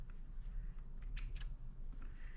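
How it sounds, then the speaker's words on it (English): Scissors snip quilt fabric strips apart, a few quiet, crisp cuts bunched close together over a low room hum with no talking. "let's cut these strips apart"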